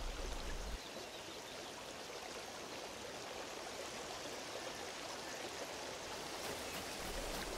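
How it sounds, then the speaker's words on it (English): Steady rushing water flowing through a cave in the survival game Rust, a continuous broadband stream sound that holds evenly throughout with no talk. "I like all the water sound."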